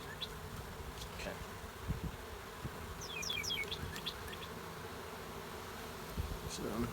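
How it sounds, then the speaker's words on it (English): Bees just unpacked from a shipping box buzz close by in short bursts, with a thin higher buzzing pass in the middle, over low steady background noise. "So this bee just landed on me"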